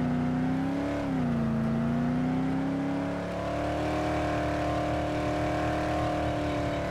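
A steady engine drone with a slight pitch rise as the car accelerates, continuous and close, with no talking, in the video game Dead Island Remastered.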